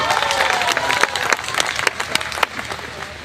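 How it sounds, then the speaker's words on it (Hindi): Thousands of people seated in a stadium at night clap at a large event, a dense, uneven wash of applause with some cheering voices mixed in, fairly loud and slightly fading toward the end. "आज 4-4 हजार लोग इतनी रात को ठंड में स्टेडियम में बैठ के तालियां बजा रहे हैं"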